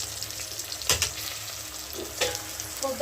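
Ginger, garlic and grated coconut frying with masala in hot oil, a steady close sizzle broken by a few louder bursts and stirring scrapes, no voices.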